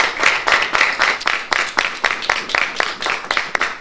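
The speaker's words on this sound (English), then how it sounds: "Go ahead and applaud" Studio audience at a televised race-relations and policing forum claps loudly in a dense, continuous burst of applause, individual claps audible within the crowd.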